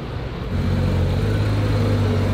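A Porsche car engine runs steadily in a low, continuous rumble, rising a little in loudness after the first half second and holding there with no voices.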